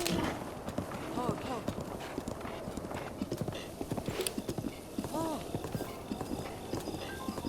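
Horse hooves clip-clop in a video game at a brisk, rhythmic trot, steady under someone talking, with a brief whinny mixed in.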